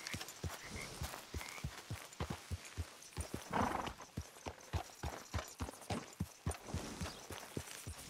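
Rhythmic horse hooves clopping at a walking pace in Red Dead Redemption 2, close and even, with a breathy horse snort partway through.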